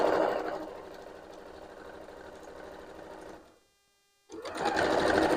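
A sewing machine stitches through the thick seams of a Block Loc kite, running in a steady fast whir for several seconds, stopping briefly to silence, then starting again loudly.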